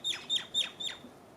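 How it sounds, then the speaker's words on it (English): Birds feeding outdoors give four quick, bright chirps in a regular rhythm, fairly close, followed by a brief quieter stretch. "look at these beautiful birds"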